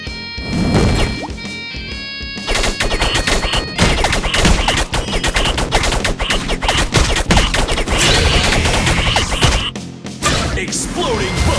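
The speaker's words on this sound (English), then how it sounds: "Exploding Bubble Magiswords!" Cartoon Exploding Bubble Magiswords blasting in a dense, loud barrage of rapid crashing bursts and whooshes that run almost continuously after a brief opening pause.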